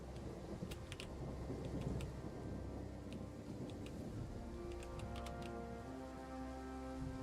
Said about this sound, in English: Oh, well, it's raining.